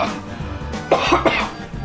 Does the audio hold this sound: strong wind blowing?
no